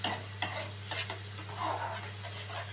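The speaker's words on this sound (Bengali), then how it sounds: "খুব ভালোভাবে আমি এটা মিশিয়ে নিচ্ছি।" Chopped onions stirred into boiled tomato paste in a frying pan, with a spoon scraping in slow strokes over a gentle sizzle and a steady low hum, close up and without talking.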